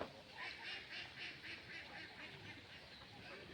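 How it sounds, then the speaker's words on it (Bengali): Distant ducks running about a pond quack in a steady, repeating series of calls, faint under a low outdoor background hum. "হাঁসগুলো কিন্তু ঠিক তেমনই রেসের মতো দৌড়াদৌড়ি করছে।"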